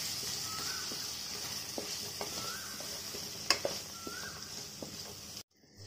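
Chopped ridge gourd fries in a pan with salt and turmeric, giving a steady soft sizzle with occasional light scrapes and clicks of stirring, fairly quiet and close, before cutting out abruptly at the end.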